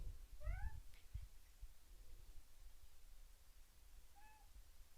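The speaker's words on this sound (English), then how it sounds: "I don't know if you can hear my cat in the background, but she's squawking." Pet cat meowing in the background indoors during a drawing session, two faint meows a few seconds apart with a soft thump, otherwise quiet room.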